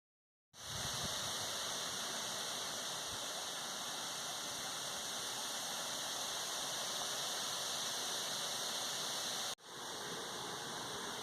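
A Summer Waves Elite 14-foot above-ground pool pump runs with water flowing, a steady loud rushing hiss that briefly cuts out near the end and then resumes.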